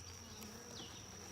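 Honey bees buzz steadily at a hive where a colony has swarmed several times, a dense, continuous drone close by, with no talking.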